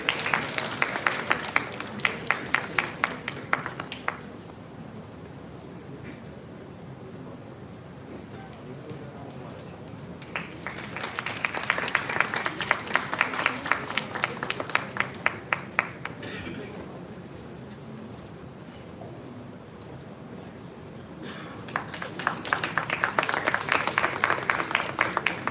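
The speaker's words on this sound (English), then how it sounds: "Please give a big round of applause." Audience at a university event applauding a guest from the High Commission of Malawi in three bursts of many hands clapping, separated by quieter stretches where a voice speaks over the room.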